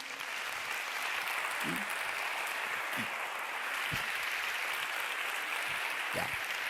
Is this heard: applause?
yes